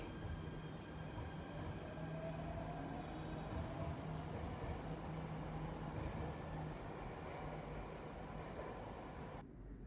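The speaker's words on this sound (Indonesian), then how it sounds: "pintunya ditutup dan kereta akan jalan." Steady low rumble of a Kuala Lumpur or Jakarta MRT train departing after its doors close, with a faint rising whine as it picks up speed.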